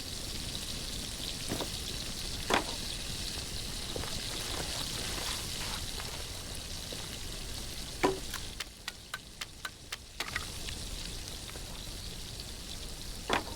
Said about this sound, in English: But I have to wait for this water to boil.